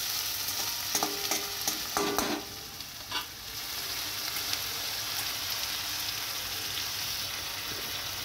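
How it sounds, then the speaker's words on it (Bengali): Chopped onion with ginger-garlic paste fries in a pan, a steady close sizzle with a few scraping stirs near the start, then continuous frying for the rest. "দিয়ে দিলাম আদা রসুন বাটা, দেওয়ার পর আবার ভালো করে কষিয়ে নেব"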